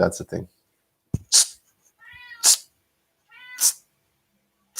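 A pet cat meows indoors, several separate drawn-out cries spaced about a second apart, close and fairly loud, with someone talking briefly at the start.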